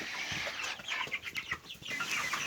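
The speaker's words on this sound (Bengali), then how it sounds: "এখানে মোট 5টি মুরগি রয়েছে" A small group of five hens clucks in a pen close by, with short overlapping bursts of clucks and murmurs.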